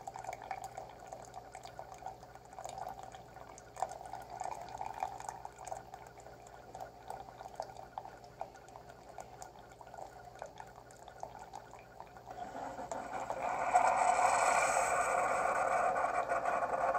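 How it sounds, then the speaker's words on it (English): An old Keurig coffee maker running on a DIY Nissan Leaf battery generator brews with a soft, steady gurgle, then swells into louder hissing and bubbling near the end; the sound stays fairly faint throughout. "making coffee on a battery power"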